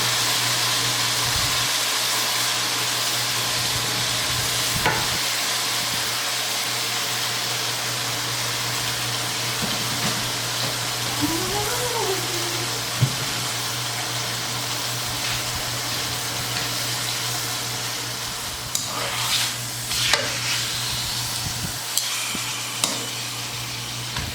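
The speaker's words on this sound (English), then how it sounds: "My stove is on a high heat, guys. Let this fry up." Steak sizzles steadily in a pan on a stove at high heat, a continuous frying hiss with a low hum beneath and a few faint clicks and scrapes near the end, no talking.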